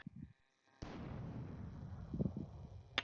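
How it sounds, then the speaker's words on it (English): A cannon fires in the Villainous board game: after a few soft knocks and a brief near-silence, one sudden boom cuts in, then a rumbling, crackling tail sustains to the end, where another sharp hit lands. "someone fired the cannon."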